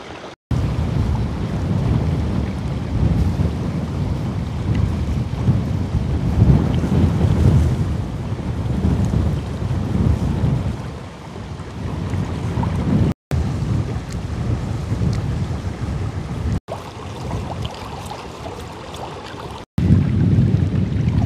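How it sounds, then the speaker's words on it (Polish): Steady wind rushing and buffeting across the microphone beside the Oder river, a loud low roar with gusts rising and easing, with a few brief dropouts. "ten wiatr jest przyjemny"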